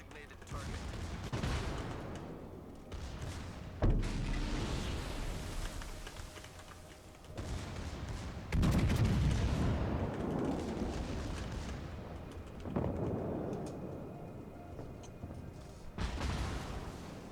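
Heavy naval guns boom from warships in the video game World of Warships, several deep, loud salvos with rolling rumble between them, with a voice briefly heard amid the shelling.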